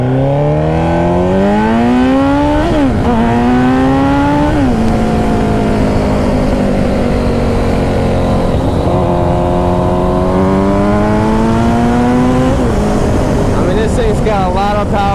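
A stretched 2007 Suzuki Hayabusa set up for drag racing accelerates hard, its engine note climbing in loud rising sweeps through several gear changes, each shift dropping the pitch before it winds up again.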